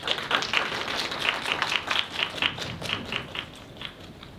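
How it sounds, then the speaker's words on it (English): Steady applause from a crowd, a dense patter of many hands clapping at once, moderately loud and continuous with no voices over it. "Please give our candidate for Humanities Senator a warm round of applause as they enter the stage."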